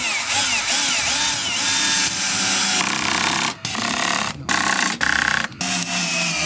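A power drill driving screws into the wooden frame of a garden shed with chicken coop, loud and close, a steady whine that stops and restarts in short bursts toward the end.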